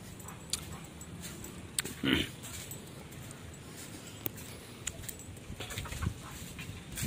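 A chicken clucks in a few faint, scattered bursts outdoors, with quiet background ambience between the short calls.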